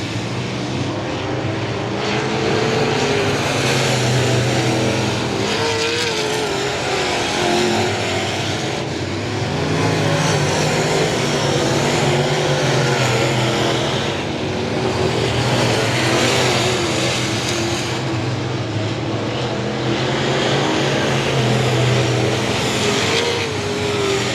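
Race cars roar past on the I-37 Speedway oval, loud engines rising and fading in repeated waves as the cars sweep by, close and continuous throughout.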